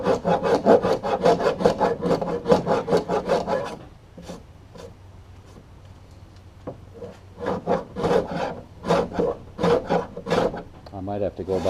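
A hand rasp works across a wooden boat transom in quick, rhythmic scraping strokes up close, pausing briefly in the middle before the steady rasping resumes.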